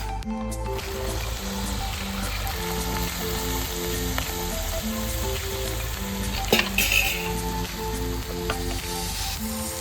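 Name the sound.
chickpea cooking water added to sizzling pan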